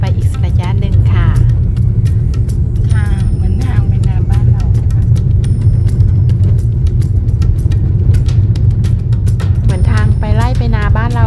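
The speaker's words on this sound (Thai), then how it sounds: "ก็ขับรถไปอีกระยะหนึ่งค่ะ" Steady low rumble of a car's engine and road noise inside the vehicle while driving into a safari park, continuous throughout, with someone talking over it.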